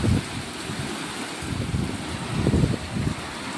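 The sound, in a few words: heavy rain with strong wind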